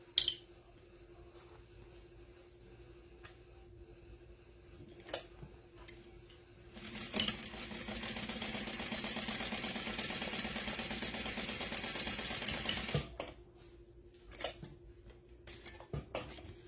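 A sewing machine topstitches along the folds of a fully modified Boon wallet, running steadily for about six seconds, with scattered ticks and clicks of handling before and after. No one speaks.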